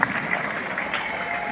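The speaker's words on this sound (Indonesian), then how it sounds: "tepuk tangan Luki dan Rinaldi." Applause from an audience at a motivational training session, a brief burst of dense, steady clapping heard on its own.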